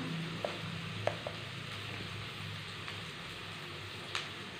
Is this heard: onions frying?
yes